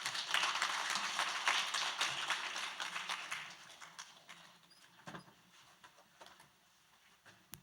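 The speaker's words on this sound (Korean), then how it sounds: "박수로 맞이해 주시기 바랍니다" An audience at an academic history seminar claps to welcome a speaker, a dense burst of applause that gradually thins and fades out over several seconds.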